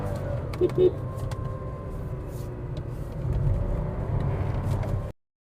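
A Volkswagen Taigun 1.0-litre with an 8-speed automatic is pushed through the corners of a winding road, its engine a steady hum that swells to a fuller drone near the end, with faint road and wind noise throughout.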